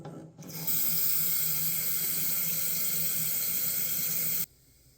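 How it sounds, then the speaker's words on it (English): Water gushes from a tap in a steady, hissing stream for about four seconds, then cuts off abruptly. "All right, let's go turn some water on and watch our switch."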